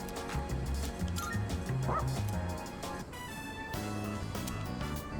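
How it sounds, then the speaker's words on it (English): A dog character in the video game Persona 3 Reload gives a run of short, close yips and barks with some whimpering, layered over steady background game music. "Dog."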